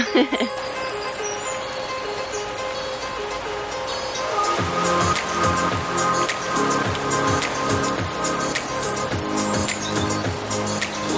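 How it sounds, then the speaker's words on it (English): Heavy storm rain pours down in Tulum, Mexico, a steady loud wash with dripping and splashing that grows denser partway through. "Well, it's really coming down. Probably the hardest rain we've had since we've been here."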